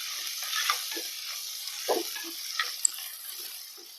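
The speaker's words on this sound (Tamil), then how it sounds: "வெங்காயம் வதங்கணும்னா ஒரு டூ மினிட்ஸ் மூடி போட்டு வதக்குங்க நல்லா வதங்கிடும்" Onions sautéing in a clay pot for fish curry, a soft steady sizzle with a few gentle stirring scrapes, fairly quiet and close.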